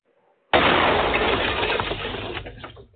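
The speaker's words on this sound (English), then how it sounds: "Drop the bomb on it. A grenade." A grenade explodes in a video game: one sudden loud blast with a crashing, shattering burst that fades away over about two seconds.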